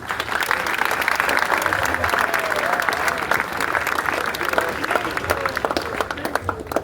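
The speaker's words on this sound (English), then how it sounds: "And that's why you are clapping for me." A large school assembly of boys applauds steadily for a motivational speaker, dense clapping filling the room with a faint voice or two underneath.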